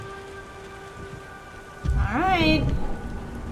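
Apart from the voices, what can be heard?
rain and thunder in the video game Beyond Two Souls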